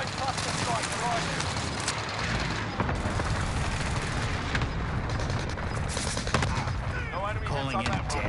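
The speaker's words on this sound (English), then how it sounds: "Allied cluster strike arriving." Cluster strike explosions and gunfire in a video game battle, a dense, continuous clatter of shots and booms, with voices talking over the din.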